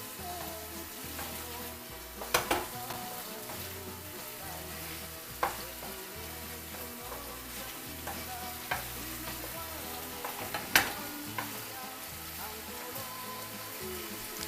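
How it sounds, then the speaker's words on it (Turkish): Pepper and tomato sauce for penne arrabbiata is stirred in a pan, giving a steady soft sizzle with scraping strokes and a few sharp utensil clicks against the pan, close and moderately quiet throughout. "o biberden de içerisine attım ve karıştırmaya başlıyorum tekrardan"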